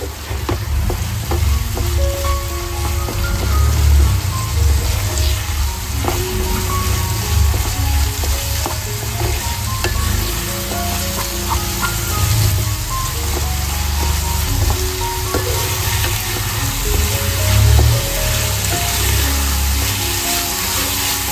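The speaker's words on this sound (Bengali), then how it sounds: "এরপর আমি সবকটা মশলাকে ভালো করে কষিয়ে নেব মাংসের সাথে" Meat being sautéed with spices in a pan for a homemade meat chop sizzles steadily and loudly throughout, a dense continuous crackle with occasional stirring scrapes and no talking.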